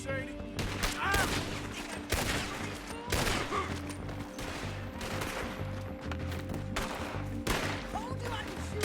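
Gunfire in the Western game Red Dead Redemption 2 rings out as a series of sharp, loud shots at irregular intervals over steady ambient game sound and music, with voices talking in between.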